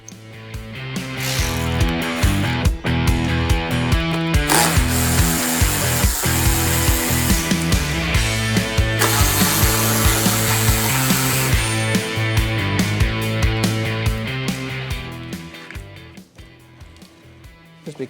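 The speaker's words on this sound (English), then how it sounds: "The step is held on by 1, 2, 3, 4 screws, which we're going to use our number 5 Allen key driver for that." A number 5 Allen key driver works loose the four screws holding the step on a Kawasaki during a pump wedge installation. It makes a loud, busy mechanical ratcheting and whirring that runs almost nonstop, then tapers off near the end.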